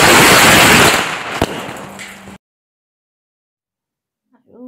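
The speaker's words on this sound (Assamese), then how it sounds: "যিহেতু বম ফটকা ফুটোৱা হৈছে গতিকে গোন্ধটো যিহেতু বেয়া" Firecrackers bursting nearby, a loud dense crackling blast that fades over about two seconds with one sharp pop inside it, then abrupt silence and a faint voice at the very end.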